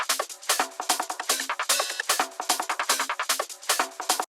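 A percussion group for a groovy trance track plays a busy, driving pattern of bright hits and tight transients, loud and continuous without voices.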